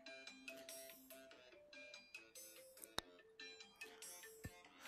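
A phone ringtone plays a rhythmic, repeating melodic chime pattern, faint and tinny in the background, with a couple of sharp clicks during a VR Golf+ game session.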